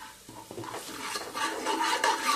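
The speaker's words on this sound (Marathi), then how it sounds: "हळद घेतलेली आहे ती घालूयात आणि छान असं परतून घ्यायचंय" Garam masala and turmeric stirred in a pan for a vegetable jeetvada dish, giving a soft scraping and light sizzle that builds slightly over a couple of seconds, close up with no talking.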